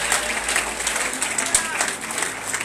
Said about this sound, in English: Can somebody clap for Jesus?